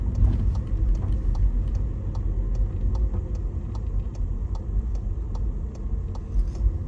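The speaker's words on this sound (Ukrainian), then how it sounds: "І на перехресті треба буде повернути ліворуч, тому ми заздалегідь знову покажемо поворотничок." Car turn signal indicator ticking at a steady, even rhythm inside a moving car during a driving test route, sharp clicks heard over the constant low rumble of the engine and road.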